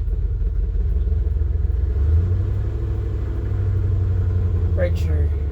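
A car engine runs in first gear with a steady low rumble, close and loud, holding an even drone for several seconds before a short higher squeak near the end.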